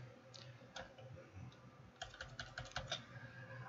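Computer keyboard typing, with a few scattered keystrokes followed by a quicker burst of clicks, close and clear over faint background hum.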